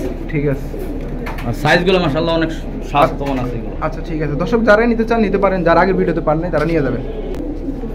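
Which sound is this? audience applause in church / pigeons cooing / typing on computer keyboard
pigeons cooing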